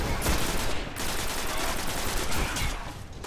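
Rapid gunfire from the video game Destiny during a co-op playthrough, a dense run of repeated shots across the whole stretch, loud and continuous with no talking.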